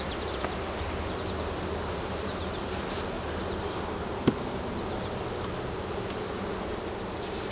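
Honeybees buzz steadily around hive frames with empty wax comb, a dense continuous drone close by, with a single faint tap partway through.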